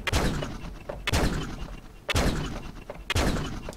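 Custom handheld gun in the Starship EVO video game firing four evenly spaced shots about a second apart, each a loud, sharp blast with a decaying tail.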